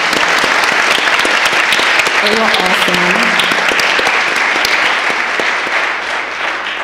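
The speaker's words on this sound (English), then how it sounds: "can we take a second to clap it up for our panelists?" Sustained applause from an audience for a panel of speakers fills the clip, steady and dense, with a voice briefly speaking over it partway through.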